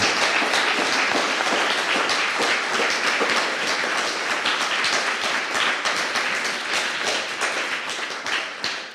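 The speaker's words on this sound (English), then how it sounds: "really a big, big round of applause for our guests today" Sustained audience applause at a conference session, many hands clapping densely and steadily at a loud level, tapering off slightly near the end.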